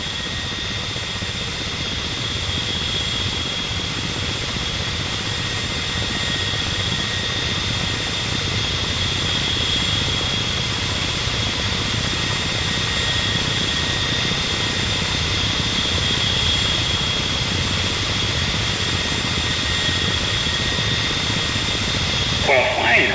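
Ka-50 Black Shark helicopter in the DCS flight simulator, a steady close turbine whine and rotor drone holding unchanged for over twenty seconds, alone without talk.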